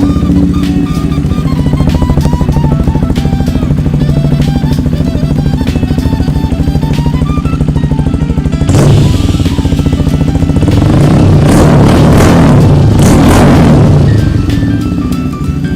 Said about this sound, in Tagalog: Start natin para marinig nyo.